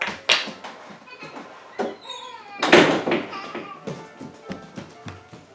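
Door closing as a young girl enters a room, a few sharp taps and thuds in a row, with some close rustling and a brief high childlike sound in between.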